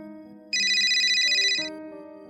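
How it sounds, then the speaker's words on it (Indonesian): A mobile phone ringtone sounds alone in a quiet room, a bright, repeating electronic melody that starts abruptly and continues for over a second. "Ponselku berdering."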